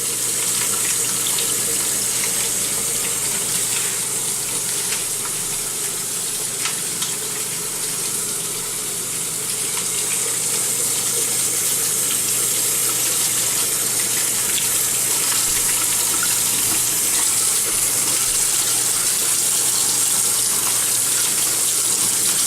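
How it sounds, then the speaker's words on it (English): Tap water runs in a constant, loud splashing stream for the whole stretch, hissy and even with no pauses. "you want to crack it on cold running water"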